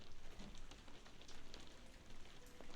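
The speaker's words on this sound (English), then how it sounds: "Ah, the sound of pitter-patter of rain on the roof." Steady rain pattering on a roof in the video game Sherlock Holmes The Awakened, a soft, continuous patter of drops with a few brighter ticks, moderately quiet and alone without talk.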